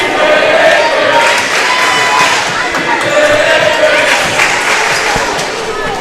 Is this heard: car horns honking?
no